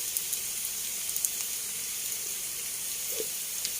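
Cumin seeds sizzling in hot oil in a pan with fried onions, a steady hissing crackle with faint pops throughout, close and even in level, without talk.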